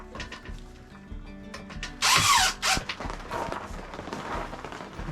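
A power drill drives a screw into a 2x4 stud for a temporary shelter, with one loud burst of whirring, a brief second spin, and handling clatter before and after.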